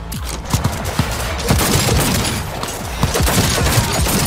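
Rapid bursts of gunfire from a weapon in the video game Cyberpunk 2077, loud and dense, with repeated sharp shots and booms over a constant roar of combat.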